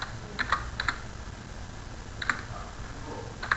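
Computer keys are pressed in short clustered taps while selecting all cells in an Excel spreadsheet, quiet and close, a few pairs of clicks spaced across a faint background hiss.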